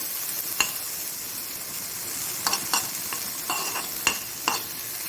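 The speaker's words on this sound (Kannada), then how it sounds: "ಸ್ವಲ್ಪ ಎಣ್ಣೆಯಲ್ಲಿ ಇದನ್ನು ಸಣ್ಣ ಉರಿಯಲ್ಲಿ ಫ್ರೈ ಮಾಡಿಕೊಳ್ಳೋಣ" Dry fish fries slowly in a little oil over a low flame, giving a soft, even hiss with a few sharp crackles and spatters breaking through. It stays close and fairly quiet.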